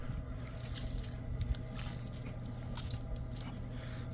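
Water gushing steadily out of a clogged aquarium filter in a fish room, a continuous splashing, trickling rush heard up close without speech.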